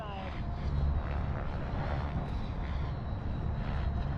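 An Eflite F-16 Thunderbird RC jet on a 6S-powered maiden flight drones steadily overhead on approach with gear down, a continuous whooshing electric ducted-fan roar at moderate distance, with wind buffeting the microphone.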